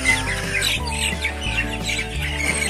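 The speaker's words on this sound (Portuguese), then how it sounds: "tem galinha em cima do teatro" Chickens clucking and squawking close by in a henhouse, several short bursts over a low hum of background noise.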